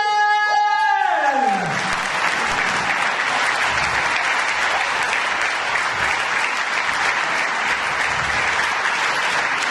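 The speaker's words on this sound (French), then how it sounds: "C'est sympa d'applaudir avant." An audience at a comedy and song stage show applauds a performer coming on, a sustained tone fading out first before steady, dense clapping fills the room and carries evenly to the end.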